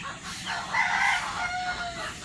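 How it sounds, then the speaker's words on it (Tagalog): A rooster crows once, loud and close, a drawn-out call that rises and holds before trailing off. No one speaks. "Tandang, kanino yan?"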